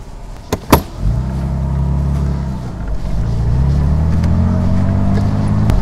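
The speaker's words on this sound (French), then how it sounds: "On entend immédiatement le feulement du V6." A Morgan Roadster's 3.0-litre V6 engine starts with a sharp crank and settles into a deep, throaty idle rumble, close and loud, with no voices.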